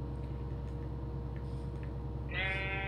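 Sheep in the Minecraft video game give a clear bleat near the end, over a steady, quiet game ambience, with no talking.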